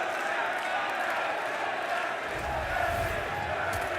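A home crowd cheers in a London arena at a BLAST Premier Counter-Strike semi-final, a broad roar that swells partway through beneath steady commentator talk.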